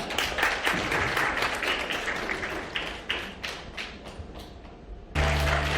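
Wedding guests clap for a surprise congratulatory song performer at a Korean wedding ceremony held during the pandemic, dense steady applause from a moderate-sized crowd that thins slightly before an abrupt louder ending.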